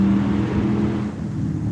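A Mopar car engine revs about half a mile away, a steady low rumbling drone that dips slightly and holds, heard alone outdoors.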